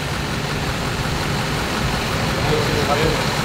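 A car engine idles with a steady, even rumble throughout, close by and unchanging, with no talk over it.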